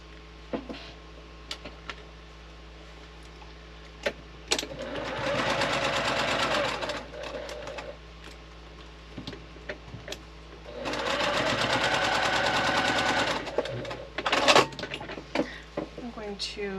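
A sewing machine stitches quilt block pieces in two sustained runs of rapid, even whirring. Between the runs come quieter handling clicks and someone speaking briefly.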